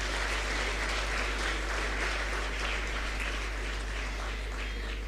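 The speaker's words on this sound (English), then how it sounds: "So big applaud for CLC." Dense, sustained applause from a large audience at a law school moot court inaugural function, a steady wash of many hands clapping at once with no break across the whole stretch.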